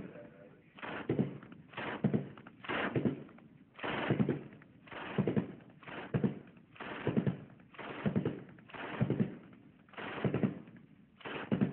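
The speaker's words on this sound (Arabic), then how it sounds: "هذا هو رشاش كورد" Kord 12.7 mm heavy machine gun firing, about a dozen short bursts repeating at a steady rhythm roughly a second apart, heard from a distance without voices.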